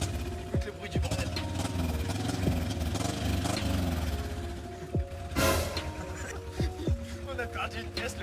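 A damaged car engine, which lost a part after a hard skid, idles and revs with a rough, uneven droning hum and tonal whine, while voices talk over it.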